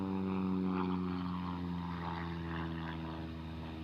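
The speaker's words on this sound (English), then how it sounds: "It is a pleasure to watch Jessie Panzer fly this Pitts biplane." A Pitts biplane performing aerobatics at the NAS Oceana air show drones with a steady, buzzing propeller engine tone that slowly fades as it moves away, with no talk over it.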